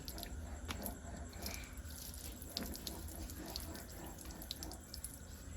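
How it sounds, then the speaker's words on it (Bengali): Tap water runs steadily into a sink while meat is washed by hand, with soft splashes and squelching over a constant flow, close by and alone with no talk. "আজকে আমাদের মাংস ধুচ্ছে লিটন ভাই ভালো করে দাও"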